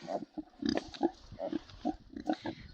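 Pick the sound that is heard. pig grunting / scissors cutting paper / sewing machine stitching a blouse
pig grunting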